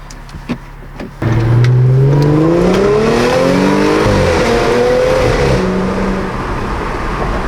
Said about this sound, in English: I'll give you guys a little acceleration here too